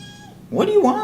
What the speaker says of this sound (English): Shut up, kitty.